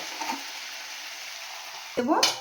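A frying vegetable curry hisses quietly, then water hits the hot pan and sets off a sudden louder burst of bubbling sizzle near the end.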